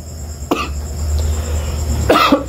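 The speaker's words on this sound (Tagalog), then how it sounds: "Ubo na ako." A man coughs twice, a sharp close cough followed by a second harsher one after a pause, over a low steady background hum.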